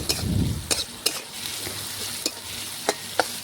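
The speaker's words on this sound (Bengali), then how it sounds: "এখন পেঁয়াজটা নাড়াচাড়া করে একটু লাল লাল করে ভেজে নেব।" Chopped onions stirred in a pan as they fry for a home-style mutton biryani, giving a low steady sizzle broken by several sharp scrapes and clicks of the spoon against the pan, close and fairly quiet, with no voices.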